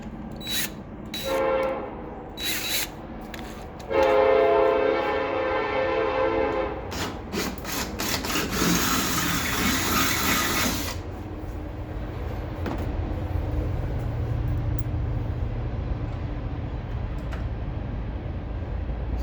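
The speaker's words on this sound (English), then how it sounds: "Oh look, a train." A train horn blares in short bursts, then a rumbling, rattling passage of rail cars follows, gradually settling into a lower steady roar.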